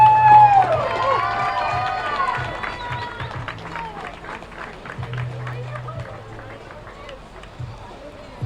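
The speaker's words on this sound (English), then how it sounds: "Round of applause for the team from LSU." A crowd at the 2018 CCSA beach volleyball championship final cheers and claps outdoors. A few high whoops and whistles rise at the start, then the noise settles into a mix of clapping and crowd chatter, with speech heard through it.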